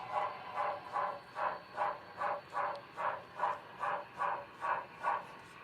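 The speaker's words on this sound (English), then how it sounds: "the consistent chuffing of a steam locomotive" A model steam locomotive, an FEF-3 running on NCE DCC control, chuffs in a steady, even rhythm of about two soft hissing exhaust beats per second, close and alone.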